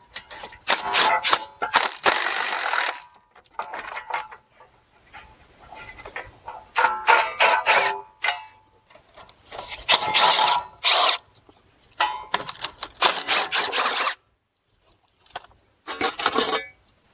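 Three 10 mm bolts come off a Chrysler Town & Country dust shield in short bursts of a power tool or ratchet, close and loud, separated by quiet gaps with faint clicks.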